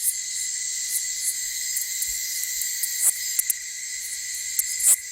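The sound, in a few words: male katydids calling at night in the Belize forest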